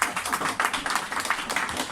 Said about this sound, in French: On peut l'applaudir quand même.